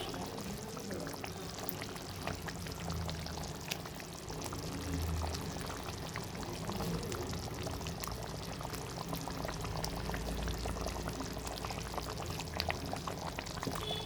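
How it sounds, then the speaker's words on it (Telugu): Fish pieces go into a boiling masala gravy with dry fruits, producing a continuous bubbling and pouring-like liquid sound at close range, with no talk. "ఈ మసాలా ఫిష్ ఇది మసులుతూ ఉంది కాబట్టి దీంట్లో మసులుతున్నటువంటి గ్రేవీలో మనము ఈ రకంగా ఫిష్ ముక్కలు వేసేసుకోవాలి"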